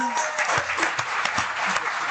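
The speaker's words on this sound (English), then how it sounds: "And the crowd cheers," A crowd applauds and cheers as a sound effect, a steady dense wash of clapping heard briefly under a speaking voice.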